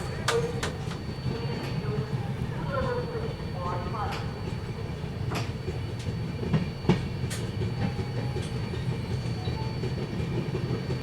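Inside a carriage of the Lucknow Pune Express under way, a continuous low rumble runs beneath sharp rail clicks and clatters, while people talk in the background.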